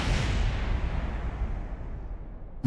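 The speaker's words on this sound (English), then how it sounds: "Big explosions." A rocket explodes in the video game Kerbal Space Program: a loud booming blast that decays into a rumbling tail over a couple of seconds, ending with a short sharp thump.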